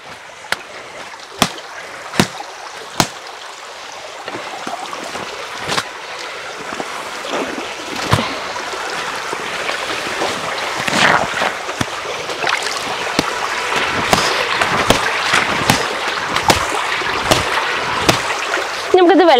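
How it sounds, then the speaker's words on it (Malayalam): A wet, soapy blanket is beaten by hand while water is poured over it, with sharp slapping thuds at irregular intervals over a running wash of splashing water, close and loud. "ഇപ്പം നന്നായിട്ടൊന്ന് വെള്ളം ഒഴിച്ച് തല്ലിയിട്ടുണ്ട്"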